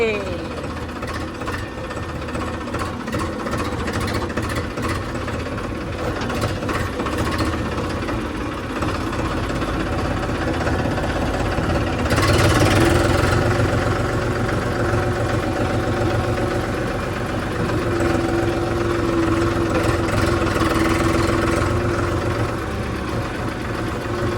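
A tractor engine runs steadily while the tractor drives along a village road, a loud continuous mechanical rumble with rattling that swells as it speeds up, and someone talks over it at times.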